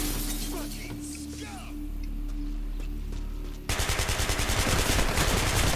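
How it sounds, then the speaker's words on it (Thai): Rapid bursts of automatic gunfire in the video game Hatred rattle loudly after a stretch of muffled game noise, in quick repeating shots. "ใครมันยิงมา"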